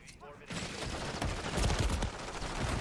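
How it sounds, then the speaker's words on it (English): Shotguns fire in Modern Warfare 3 gameplay as a dense run of loud blasts and clatter under brief gamer chatter, starting after a quiet half second. "He got the dude with shotguns."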